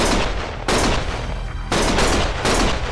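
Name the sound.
gunfire from a video game (Lost Judgment)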